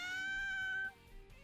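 A single drawn-out cat meow from the video game Little Busters!, clear and tonal, holding steady for nearly a second before cutting off, close and alone.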